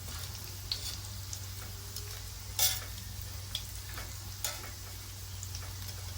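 Chicken schnitzel frying in a pan on turned-down heat, a low steady sizzle with a constant hum beneath and a few faint clicks and taps of handling.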